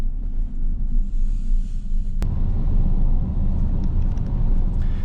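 A 2014 Chevy Silverado with a 5.3L engine and an S&B cold air intake gives a steady, deep engine rumble at low RPM, heard close and continuous for several seconds with no voices.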